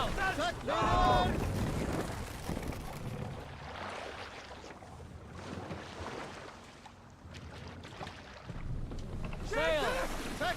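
Wind rushes around a sailing boat in Assassin's Creed Valhalla, a steady breathy roar with water wash beneath, while voices speak briefly at the start and again near the end.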